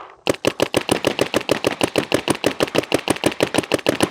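A mechanical paintball gun, gravity fed with no electronics or batteries, fires a rapid, steady string of about twenty-five loud, sharp pops in quick succession, close and alone with no talking.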